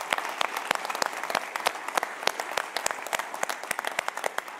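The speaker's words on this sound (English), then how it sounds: "Would you just give them a great round of applause and say thank you?" A church congregation applauds new members at a blended Sunday service, a dense, steady wash of many hands clapping with sharper individual claps popping out, sustained throughout at moderate level with no talking.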